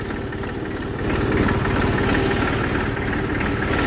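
A parked tractor idles in a farmyard, a steady close mechanical chug with dense rhythmic pulsing that grows slightly louder after the first second and holds unbroken to the end.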